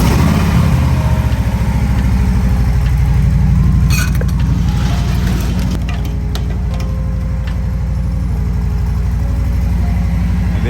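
A 2021 Harley-Davidson Low Rider S, just back together after a dual gauge relocation, settles into a loud, close, steady V-twin idle that thumps evenly with mechanical ticking for the whole stretch.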